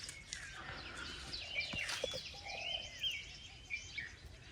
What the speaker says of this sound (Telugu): కానీ పక్షుల అరుపులు అయితే నెక్స్ట్ లెవెల్ వినబడుతుంది గైస్.